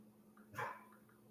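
A single short dog bark, muffled behind a closed door, faint against a low background hum.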